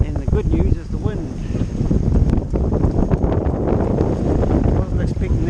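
Strong wind buffets a Nova 28 sailboat sailed solo at sea near the Broken Islands, with about 15 knots on the beam, making a loud, continuous rumbling roar across the microphone and a faint voice near the start.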